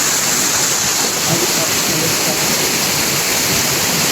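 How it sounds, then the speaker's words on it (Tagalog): Taytay Falls waterfall seen from its highest point, a dense, loud, steady rush of falling water filling the whole scene without a break. "Ito nga pala yung pinaka ah, highest point ng Taytay Falls."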